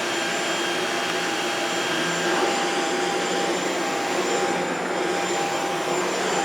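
Shark Ultralight PetPro corded stick vacuum running on a floor, a steady loud whirring motor roar with a high whine, close and unbroken throughout, no talking.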